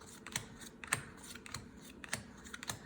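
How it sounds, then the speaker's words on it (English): Tarot cards dealt out one by one for a game of Old Maid, giving sharp, light slaps and flicks at an uneven rhythm, close and fairly quiet with no talking. "I deal out the cards, all of the cards out"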